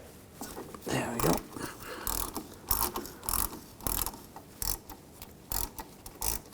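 Ratchet wrench removing bolts from the rear brake of a 2003-2009 Subaru Forester during a wheel cylinder replacement, giving a series of short clicking ratchet bursts at an uneven pace, close and moderately loud.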